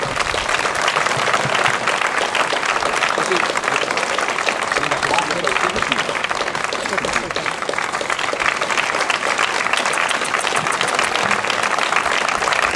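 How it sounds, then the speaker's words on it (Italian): Big warm applause from a crowd at a 50th anniversary commemoration in Castelnuovo di Ceva, dense continuous clapping that stays loud and even throughout, with faint voices underneath. "questo loro atto con un grande caloroso applauso."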